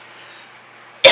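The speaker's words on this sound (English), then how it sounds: "I'm sorry about the coughing." Quiet room tone, then a single sharp, loud cough bursts out at the very end.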